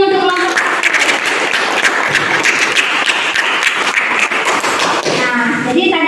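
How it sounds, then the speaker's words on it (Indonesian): A classroom of students claps loudly for a group that has just presented, close and dense sharp hand claps with some thumps, with brief speech at the start and end. "Ya, tepuk tangan dulu untuk kelompok."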